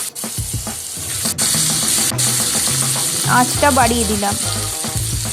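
Boiled potatoes frying in hot oil with Kashmiri chilli powder, a loud close sizzle with a couple of sharp clicks, while a voice speaks briefly over it.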